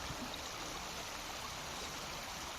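A river flowing over rocks in a stone-strewn stretch of the Jinjim River in Pidie Jaya, a constant broadband rush of water at close range, steady and unbroken, with no talk.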